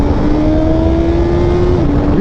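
2022 Suzuki Hayabusa motorcycle accelerating hard in first gear, a loud close engine roar with a rising whine that climbs steadily over wind noise, then drops briefly near the end as the revs fall.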